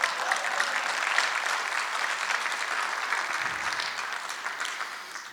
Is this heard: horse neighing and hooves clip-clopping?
no